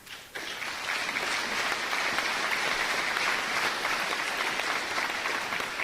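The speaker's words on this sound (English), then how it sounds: "You're all clapping too much, I'm sorry." An audience at a public meeting breaks into sustained clapping, starting abruptly and holding as a dense, even wash of many hands applauding at moderate loudness, with no talking over it.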